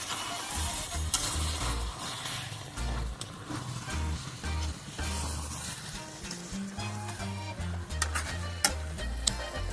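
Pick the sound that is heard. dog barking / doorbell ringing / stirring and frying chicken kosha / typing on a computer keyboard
stirring and frying chicken kosha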